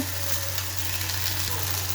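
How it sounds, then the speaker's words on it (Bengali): Steady frying sizzle from ginger, garlic and cumin paste hitting hot oil, a continuous crackling hiss with a low hum underneath, no voices. "আদা রসুন জিরা বাটা দিয়ে দিলাম"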